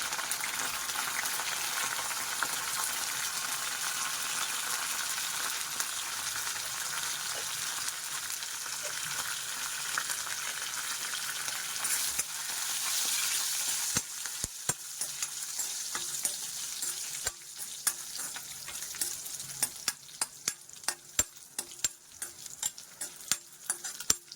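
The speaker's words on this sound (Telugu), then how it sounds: "బాగా ఫ్రై అవ్వాలండి. ఎర్రగా అవ్వాలి పోపు, అప్పుడే బాగుంటుంది చారుకి." Garlic, dry red chilies, mustard seeds and cumin sizzle steadily in hot oil for a rasam tempering, a continuous close frying hiss, with sharp popping crackles growing more frequent toward the end.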